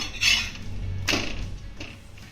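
A paratha is flipped on a hot pan, giving a couple of sharp metallic clinks from the utensil against the pan over a low, steady background, with no voices.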